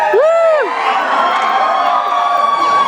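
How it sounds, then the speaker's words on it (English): A convention panel audience bursts into cheering, whooping and shouting, loud and close, with a rising-and-falling whoop at the start and a sustained roar of voices after. "That sounds like a crowd."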